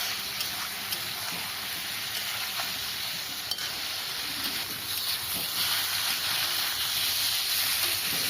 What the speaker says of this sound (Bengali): এবার ভালো করে কচুটাকে কষিয়ে নেব